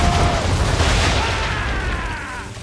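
Naval cannon fire in Assassin's Creed 3 Remastered, a deep, loud rumbling boom that rolls on and slowly fades.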